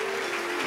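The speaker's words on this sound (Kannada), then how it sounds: "ಜೋರಾದ ಚಪ್ಪಾಳೆ ಮೂಲಕ" An audience at a college musical concert in Karkala, Karnataka, applauds for freedom fighters, a brief, steady wash of crowd clapping.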